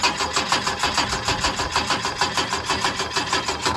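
A Holden HJ wagon engine that has sat for eight years runs at a fast, rhythmic idle, its even pulsing chug loud and close with no talk over it.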